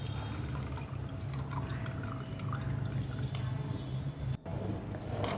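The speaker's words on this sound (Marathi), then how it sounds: "आणि हा लोण्याचा गोळा 2-3 पाण्यानं स्वच्छ धुवून घ्यायचा" A ball of freshly churned butter is rinsed by hand in two or three changes of water, giving steady close splashing, dripping and soft squishing over a low kitchen hum, with no talk.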